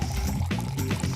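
Thick squeezed coconut juice pours into a glass, a brief close gurgling stream with a low hollow splash as the liquid fills.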